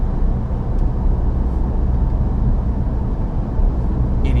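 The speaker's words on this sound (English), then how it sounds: "The engine pulls very well." A 2023 Volkswagen Passat Alltrack's engine pulling under acceleration in gear, a steady low drone heard from inside the cabin, constant and moderately loud with no speech.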